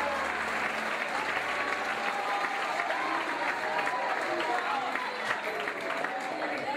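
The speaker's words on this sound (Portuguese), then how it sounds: "Se você pode, aplauda Ele nessa noite" A church congregation applauds during a sermon, many hands clapping in a sustained, even roar with some crowd noise mixed in, carrying on at a steady level throughout.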